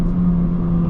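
A Honda Civic Sport with a manual gearbox and an aftermarket rear engine mount, its engine holding a steady low drone with rumble from inside the cabin, loud and continuous through the brief moment.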